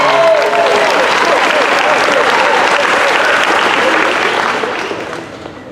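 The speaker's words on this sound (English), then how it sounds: "Let's give him one more round of applause." Audience clapping at a middle school end-of-year awards ceremony, a loud, dense round of applause from a crowd that holds steady, then fades away over the last second.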